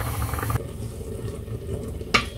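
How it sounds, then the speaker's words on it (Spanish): Orange marmalade simmers in a covered pot over low heat, giving a soft steady bubbling and hiss with a faint clink near the end, close and moderately quiet with no voices. "ya va empezando a hervir"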